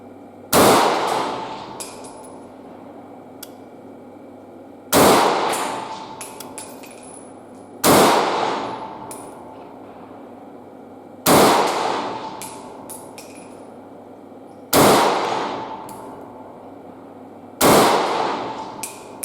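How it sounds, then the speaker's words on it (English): Six loud, sharp shots from an SKS rifle rebuilt as a smoothbore in 366TKM (9.6x38) crack out about every three seconds, each one followed by a short ringing echo, with nothing heard between them. "Let me basically fire it for you."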